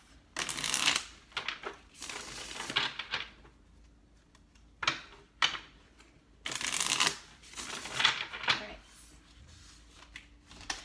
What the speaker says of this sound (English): one more shuffle as long as there's no pre-messages